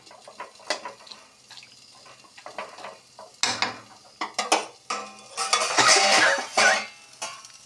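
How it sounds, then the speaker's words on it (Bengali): A lid goes onto a cooking pot of potato curry with salt and green chillies set to boil. Scattered metallic clatters and scrapes rise near the end into a busier burst of pot clanking. "এখন ডাকনা দিয়ে দিচ্ছি ভালো করে সিদ্ধ হবে"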